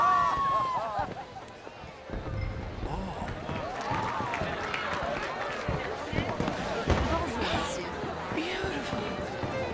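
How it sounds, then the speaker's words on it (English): Fireworks bursting over a Saint Denis ball in Red Dead Redemption 2, scattered pops and crackles amid steady crowd chatter and voices throughout. "Let me enjoy the fireworks."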